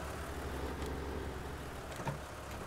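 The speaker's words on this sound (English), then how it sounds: "This tractor should be more than powerful enough to do this job." A tractor engine in the farming game Farming Simulator 19 runs with a steady, low, continuous drone, holding an even level throughout with no other clear sounds.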